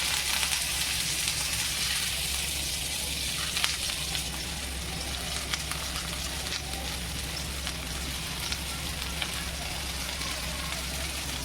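Stuffed spiny gourds (kantola) fry in oil in a flat pan, giving a steady, close hiss of sizzling that runs unbroken at an even level throughout.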